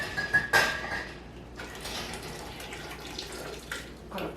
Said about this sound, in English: I'm going to pour the hot water out of the jar.